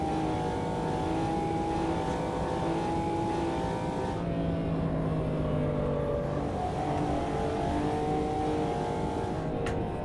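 A McLaren F1 V12 LM racing car in Automobilista 2 howls loudly and continuously, its V12 revving up and down through gear changes with a steady close drone and no talking.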